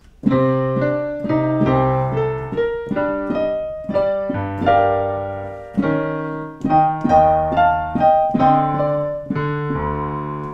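A solo piano plays a melodic tune with bass octaves and chords, steady and clear, notes ringing out between phrases.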